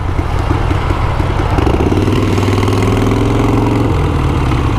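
A motorcycle engine with its exhaust baffles reinstalled runs loud and steady nearby, a continuous throbbing idle with a slight rise in pitch midway, no voices over it.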